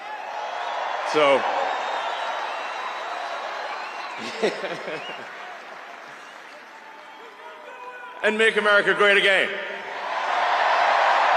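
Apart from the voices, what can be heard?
rally crowd cheering and applauding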